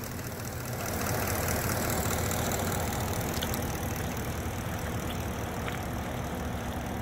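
A 355 hp engine converted to run on LPG propane autogas, running at a steady idle with a continuous low rumble and broadband hiss throughout, no talk.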